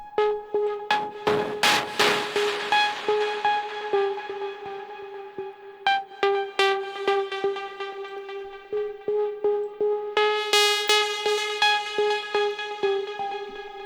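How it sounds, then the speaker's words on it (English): A Diva synth noise lead built from a saw wave mixed with noise, playing a rhythmic pulsing line of bright, buzzy notes with noisy attacks, trailed by delay echoes and reverb. "The noise lead is this. So this is all Diva again."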